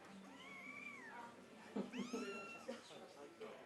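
Kittens rescued during an evacuation, one sick with an upper respiratory infection, give several drawn-out, rising and falling meows close by, with people talking underneath.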